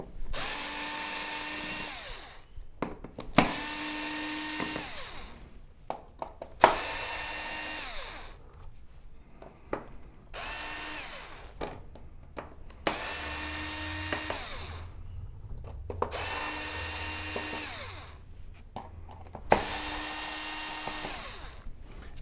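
A power screwdriver buzzes in seven short bursts with pauses between, removing the screws that hold the main board of an LG OLED TV to its chassis, close and fairly loud.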